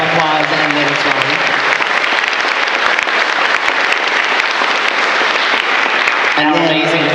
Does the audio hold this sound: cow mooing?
no